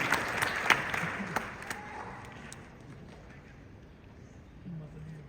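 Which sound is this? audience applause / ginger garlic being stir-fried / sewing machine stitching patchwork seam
audience applause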